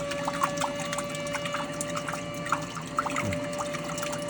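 A boat's aerator pump moves water into a bucket, giving a steady close splashing and trickling pour with a constant motor hum beneath.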